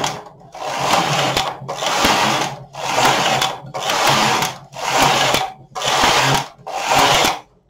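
A Singer Memo II knitting machine knits rows of waste yarn, the carriage swept back and forth in seven even whirring, clattering passes with short pauses between, close and clear with no talk.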